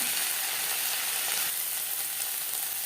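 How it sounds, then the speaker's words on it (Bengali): Ginger paste and green chili paste sizzle steadily in hot oil with onions, a loud, continuous frying hiss with light stirring, and no talking. "3-4 মিনিট পেঁয়াজ নাড়াচাড়া করে নেওয়ার পর দিয়ে দেবো আদা বাটা, আর লাগছে কাঁচা লঙ্কা বাটা।"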